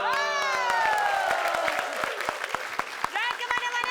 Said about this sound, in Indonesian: Tepuk tangan sekali lagi buat Pak Haji Mali